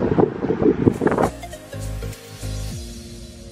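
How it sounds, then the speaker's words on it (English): Gusty wind buffeting the microphone, loud blustery rumbles at first easing into a lower steady rush with some tonal engine-like hum. "It's generally so windy."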